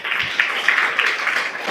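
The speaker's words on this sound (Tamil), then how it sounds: "கைத்தட்டலாம்." A church congregation bursts into steady applause, a dense and even patter of many hands clapping throughout, fairly close and continuous.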